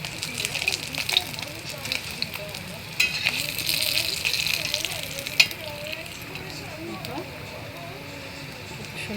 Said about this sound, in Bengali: সুন্দর মাছ ভাজা হয়েছে।